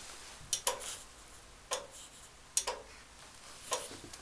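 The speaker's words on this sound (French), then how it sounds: "un joli tic-tac qui provient de cette horloge Mamillas" An electro-mechanical Mamillas clock in the clock room of the church at Vézelise, driven by a descending weight, ticks in sharp, fairly regular clicks, some doubled, close by in a quiet room.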